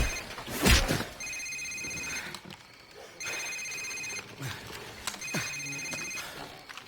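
A cell phone rings inside a safehouse scene in Call of Duty 4: Modern Warfare, repeating in three electronic trilling bursts, with a sharp thump near the start and scattered movement and background noise between rings.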